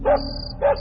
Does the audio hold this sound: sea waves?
no